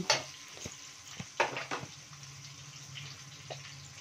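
Chopped onion goes into a hot pan for ridge gourd curry, giving a close, soft sizzle with a few scraping and clattering stirs over a low hiss.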